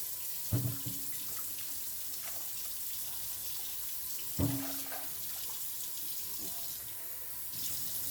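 Steady running tap water splashes into a sink, with a few clunks of Thai eggplant being rinsed and handled under the stream.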